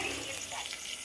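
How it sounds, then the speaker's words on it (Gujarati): Tempering sizzling in hot oil for Gujarati Panchvati dal, a steady close hiss and crackle of frying spices for about a second. "અત્યારે આ વઘાર શરૂ છે"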